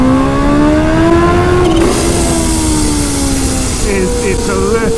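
A Kawasaki Ninja H2 motorcycle engine roars loud and close, its pitch climbing and falling through revs, with a shift in tone midway and a brief higher whine toward the end.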